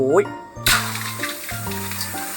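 Pickled salmon and cabbage stir-fry in a pan with no added oil, a steady sizzle punctuated by scraping and clinks, partly overlapped by tonal game-like chimes and voices.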